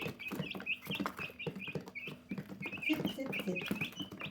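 Hens clucking in a small backyard flock of newly arrived chickens, repeated short clucks and chatter fairly close, steady throughout with some background rustle and a voice talking at times.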